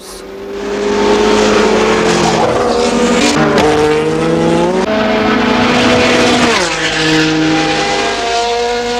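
Renault Elf and Porsche race cars at the Le Mans 24 Hours, a loud continuous roar of high-revving engines with pitch sweeping up and down as cars pass and shift, alone without talk.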